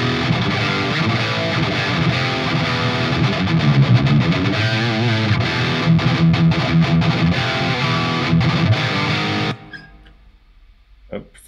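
A Marshall JVM410H amp on its red high-gain channel, with reverb turned up, drives a heavily distorted electric guitar through dense chugging riffs and sustained chords, loud and continuous before cutting off abruptly into near silence.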